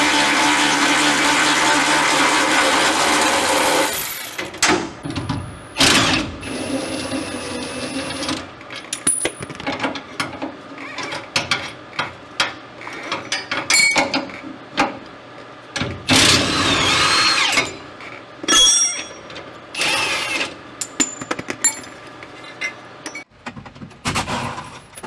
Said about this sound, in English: The Milwaukee cordless ratchet comes in handy a lot